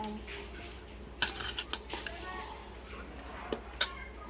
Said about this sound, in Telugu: ఉప్పు కారం ఇప్పుడు బాగా కలుపుకోవాలి